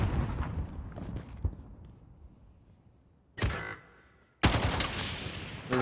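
Sharp, loud gunshot bursts from a sniper in a search-and-destroy video game round, two distinct volleys separated by quieter ambient game noise, heard without talk.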